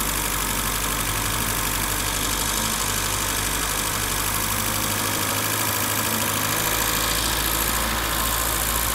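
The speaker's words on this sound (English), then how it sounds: "Attempted to adjust the idle through the idle stop screw down there on the bottom of the throttle body." A 1984 BMW E30 318i engine idles while its idle is being adjusted, a steady, close, loud mechanical hum with a slight dip and recovery midway and no voices.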